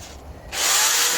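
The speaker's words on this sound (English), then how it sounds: "this power carving process with the drill and the orb-shaped power carver took a lot longer than the angle grinder and the disc" A drill fitted with an orb-shaped power carver bites into wood. A softer whir jumps to a loud, steady, close grinding rasp about halfway through, with no talk.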